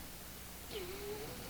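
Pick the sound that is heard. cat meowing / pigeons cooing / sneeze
cat meowing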